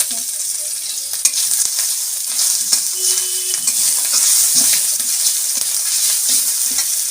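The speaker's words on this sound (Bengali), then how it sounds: "এবার এর মধ্যে আমি আদা বাটাটা দিয়ে দিচ্ছি" Ginger paste goes into hot oil with dried chilli and whole cumin for a vegetable dal, setting off a loud, close, continuous sizzle with scattered pops and spatters.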